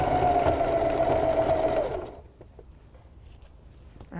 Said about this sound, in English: now we're sewing right back down the other side